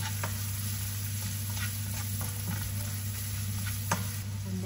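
Chopped onion sizzles in melted butter in a pan, a steady close frying hiss with a few faint ticks and taps of a utensil, and no talking.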